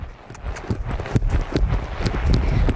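A five-year-old paint gelding lopes, its hooves clip-clopping in a quick, steady rhythm of close, distinct strikes.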